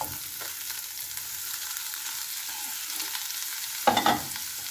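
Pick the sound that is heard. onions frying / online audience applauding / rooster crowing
onions frying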